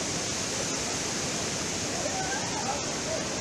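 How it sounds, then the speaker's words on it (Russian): A waterfall pours beside thermal baths in Greece, a loud, steady broadband rush of falling water that fills the scene without pause. "Вы видите великолепный водопад"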